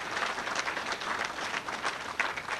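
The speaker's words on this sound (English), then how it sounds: "Give yourselves a nice round of applause." Steady applause from an audience at a gun-rights awards ceremony, a dense even patter of many hands clapping at moderate level for nearly three seconds, with no voices above it.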